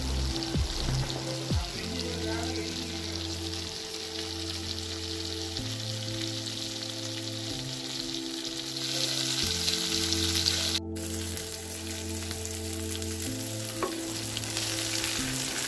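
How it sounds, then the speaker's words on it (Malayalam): Prawns shallow-frying in ghee over a medium flame for a Kerala Mangalorean ghee roast: a steady, close sizzle with occasional stirring scrapes, running continuously with no talking. "ഇപ്പോൾ അത് ഫ്രൈ ആയിക്കൊണ്ടിരിക്കുകയാണ്"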